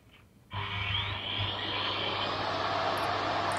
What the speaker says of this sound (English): Well, there's you vacuuming.